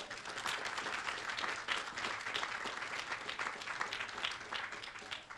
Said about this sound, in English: let's have a round of applause for Tina